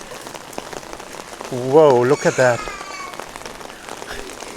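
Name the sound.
heavy rain falling in Medjugorje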